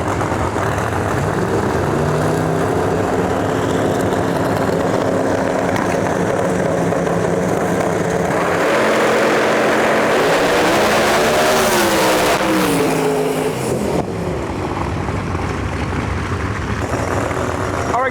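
Pro Mod drag race car on the far side of the track, its engine revving loud and steady then rising sharply as it launches, with crowd and track noise around and talk over the top.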